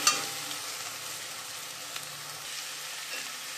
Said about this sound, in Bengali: এখন সুন্দর করে ফ্রাই করে